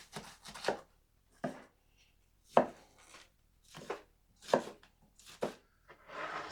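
An 80CrV2 carbon steel knife chops through cabbage in crisp, close cuts, roughly eight separate strokes spaced irregularly about a second apart, each a sharp crunch against the board.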